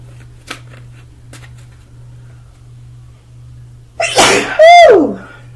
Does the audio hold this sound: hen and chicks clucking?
no